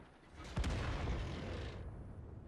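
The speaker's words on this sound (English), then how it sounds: "An excellent shot there by the enemy artillery." An enemy artillery shell hits tanks in World of Tanks: a sudden heavy boom with a sharp crack, then a rumbling explosion that rolls on loudly for over a second before thinning out.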